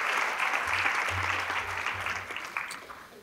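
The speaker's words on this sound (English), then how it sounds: "round of applause" Audience applause at a nurse immunisation conference, a sustained roomful of clapping that holds steady for about three seconds before tapering off.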